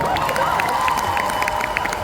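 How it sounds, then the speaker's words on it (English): Audience applause for Félicia, a brief patter of clapping with light cheering, moderately loud and continuous across the moment. "applause for Félicia"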